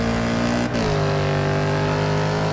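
Mercedes-AMG GT S race car in Forza Motorsport 6 at Brands Hatch, a loud engine drone that drops sharply with a quick gear shift, then settles into a steady, slowly climbing rev.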